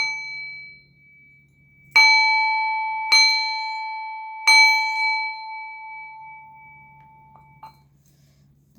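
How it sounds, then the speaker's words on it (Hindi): Three separate strikes of a healing bell, each ringing out with a clear, sustained metallic tone that slowly fades, set against a quiet background with no voices. "आप इस बेल साउंड के साथ हील हुई"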